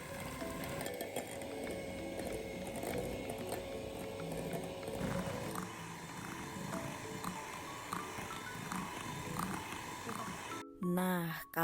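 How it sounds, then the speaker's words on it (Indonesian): An electric mixer whirs steadily while beating three eggs with sugar until thick and pale, a continuous buzzing drone at moderate level with faint clatter near the end. "Masukkan gula ke dalam 3 butir telur, lalu mixer searah hingga mengembang"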